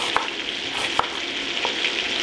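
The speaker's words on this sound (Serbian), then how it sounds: "Dok se piletina prži" Chicken fries in a pan with a steady close sizzle and a few sharp pops or scrapes standing out against it.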